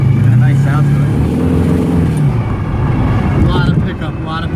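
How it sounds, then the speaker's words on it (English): A 1933 Ford Vicky five-window coupe hot rod with a 383 engine and gear drive idles with a low, steady rumble and a faint geared whine, close by, while people talk over it. "Sounds like it's got a gear drive too."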